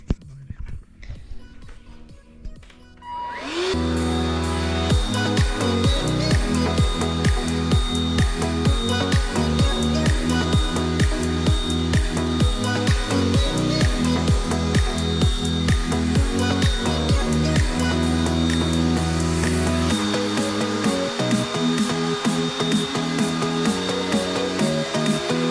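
A KITFORT KT-557 handheld vacuum cleaner switches on after a few quiet seconds and runs with a loud, steady whine and pulsing motor hum, nearby and alone, briefly dipping before continuing.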